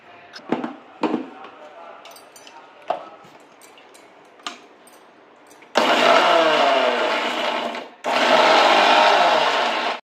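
A kitchen mixer grinder blends spinach, green chillies, ginger, turmeric and cumin. A few clicks and knocks come first, then the motor roars in two loud, sustained bursts separated by a brief pause.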